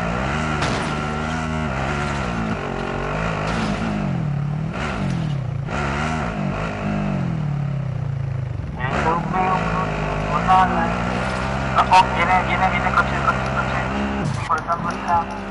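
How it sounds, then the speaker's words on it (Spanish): An approaching car in Call of Duty Modern Warfare builds as an engine drone that rises and revs louder toward the end, heard beneath excited talk from several players. "No, viene, viene, viene, coche, coche, coche."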